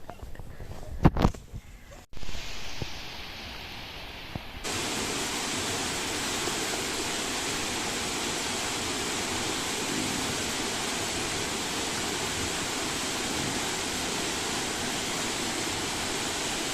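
A waterfall in Kereita Forest roars as a steady broadband rush of falling water that starts abruptly after a few seconds of quieter handling noise and continues evenly.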